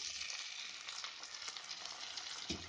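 Corn kernels frying in butter in a pan for corn and cheese soup, a steady soft sizzle with faint stirring scrapes throughout, quiet and close.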